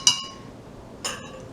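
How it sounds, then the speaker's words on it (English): A spoon stirs a fizzy punch mocktail in a glass, giving two light, bright clinks about a second apart, close by and with no voices. "we're just going to gently stir it"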